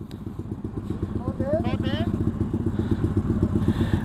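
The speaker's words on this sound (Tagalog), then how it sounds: "Ayaw umandar yung ano, motor ko." A motorcycle engine running rough with a low uneven putter and clatter while it struggles to start, close by, with a few brief chirping sounds in the background.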